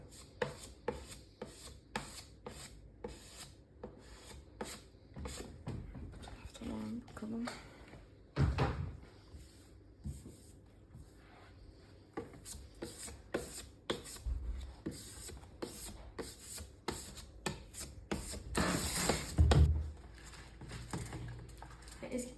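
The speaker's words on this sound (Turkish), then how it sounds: "Şimdi de macunluyoruz. Onarıyoruz yani." Wood filler putty is spread and scraped across a furniture surface being repaired, making a busy run of close scratchy strokes, taps and knocks with occasional heavier thumps. Voices are faintly present in the background.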